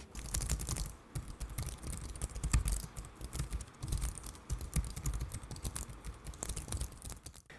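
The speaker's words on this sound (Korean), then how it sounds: "좀 가벼운 적축이나 좀 소리가 적은 청축 같은 그런 느낌으로 경쾌하게 타이핑할 수 있어서" Rapid, steady typing on an HP Omen 17 gaming laptop keyboard, light, crisp clacks in a continuous stream, close up and fairly loud, with no voices.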